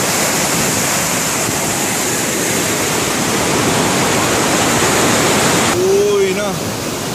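A large river in heavy flow, its rushing water a loud, dense and continuous roar heard up close, with a short whistle-like tone near the end.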